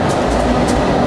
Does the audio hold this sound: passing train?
yes